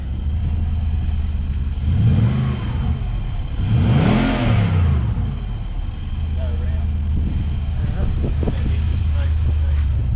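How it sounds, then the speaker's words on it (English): A Nissan Y62 SUV fitted with a Torqit exhaust idles with a deep rumble, then is revved twice with rising, falling engine swells, returning to idle while people talk nearby. "Alright, give us a rev."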